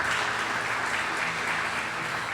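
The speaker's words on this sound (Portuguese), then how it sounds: "Vamos aplaudir Jesus em forte" Church congregation applauding during a Wednesday worship service, a steady dense wash of many hands clapping at moderate level throughout, with no talk over it.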